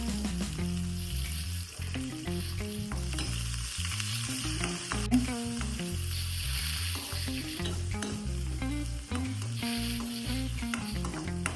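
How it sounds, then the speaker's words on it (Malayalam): Onions sauté in hot oil with curry leaves and dried red chillies while cooking lentil curry. A continuous close sizzle is joined by frequent scraping and clinking of a spoon stirring in the pan. "ഉള്ളി നല്ലവണ്ണം ഒന്ന് വഴണ്ട് വരട്ടെ"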